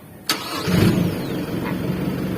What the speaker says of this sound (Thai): หยยบเบรกนี้แล้วกดสตาร์ทได้เลย